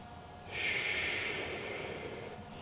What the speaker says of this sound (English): And then forced exhale as we stand tall.